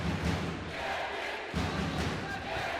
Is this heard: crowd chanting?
yes